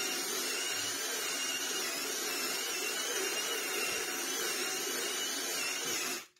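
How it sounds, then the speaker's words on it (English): Steady high-pitched whirring of a drill-driven scrub brush cleaning an old car, running continuously and fairly close before cutting off abruptly at the end, with no talking. "Do some drill brushing"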